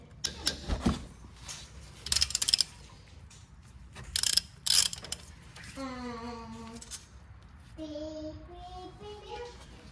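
A ratchet working a 21mm brake caliper bracket bolt during a front rotor replacement: quick bursts of loud, close clicking, then slower creaking and squeaking tones as the bolt turns, with faint voices in the background.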